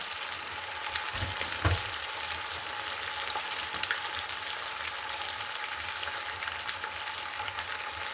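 Spices frying in a pan with radish and fish for a braised bhuna: a steady, close sizzle with crackling bursts and occasional stirring scrapes, continuous throughout with no talking.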